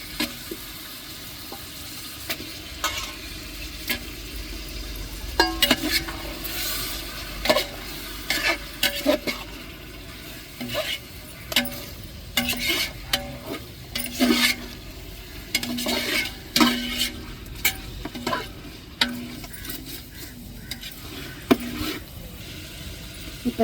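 Two kilos of chicken frying in a hot pan, sizzling steadily while a utensil stirs and scrapes it in repeated bursts, close and fairly loud with no talking.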